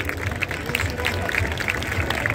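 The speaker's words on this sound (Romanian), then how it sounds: "Aplauze pentru Balu!" Applause from a crowd on the TIFF red carpet for Balu the dog, with a steady patter of clapping mixed with babble and voices from the gathered audience.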